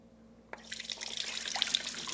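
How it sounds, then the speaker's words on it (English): Water pours from a container of soaked almonds into a sink, starting abruptly after a short quiet moment and continuing as a close, splashing trickle with scattered drips. "So you just saw me drain the almonds from the water"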